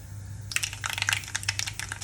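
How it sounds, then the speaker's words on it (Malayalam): Mustard seeds splutter in hot coconut oil, starting suddenly with a quick run of faint crackles and pops over a low background hum. "എണ്ണ നന്നായി ചൂടായി കഴിയുമ്പോൾ നമുക്കിതിലേക്ക് എടുത്തു വച്ചിരിക്കുന്ന കടുക് ചേർക്കാം"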